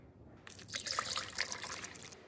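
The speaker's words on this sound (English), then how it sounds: "To that, I'm gonna add 1 cup of water." A cup of water pours into chocolate cake batter made with cocoa, a short close trickling splash that starts abruptly and runs for under two seconds before tapering off.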